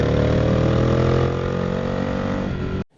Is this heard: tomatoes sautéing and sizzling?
no